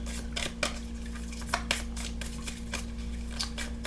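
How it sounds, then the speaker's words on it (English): Tarot cards are shuffled by hand during a pick-a-card reading, giving a series of crisp, papery riffles and taps over a steady low hum. "we're going to go ahead and shuffle for you"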